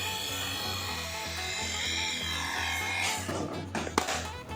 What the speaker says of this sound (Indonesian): ini kalau dari suaranya sih sudah mau hampir habis ya baterainya ya